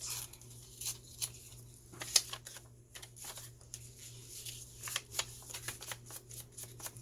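Scissors snip through paper for a coffee-stained envelope in a run of short, crisp cuts and rustles, close and fairly quiet over a steady low hum, with no talk.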